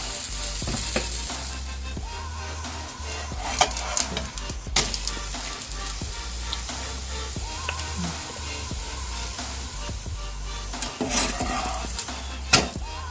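A wheat flour mixed-vegetable pudla roasting on a pan, a steady close sizzle with repeated scraping and clicking of a spatula against the pan, a few sharper knocks near the end, no talking.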